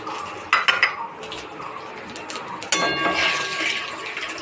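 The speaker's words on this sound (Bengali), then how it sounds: "এখন এই পুরোটা ধরেই আমি দিয়ে দেব কড়াইয়ের মধ্যে।" Whole spices (cardamom, cinnamon, cumin) dropped into a kadai for tempering, with sharp metallic clinks of a utensil against the pan, then a rising sizzle and crackle as they fry.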